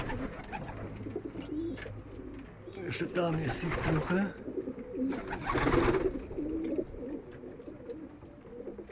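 Soft homing pigeon cooing in repeated low murmurs, mixed with someone talking and a rustling background.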